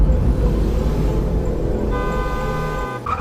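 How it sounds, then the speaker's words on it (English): A car horn honks over a low, rumbling engine and road noise, the tone sounding in the last second or so. "honking pierced the storm"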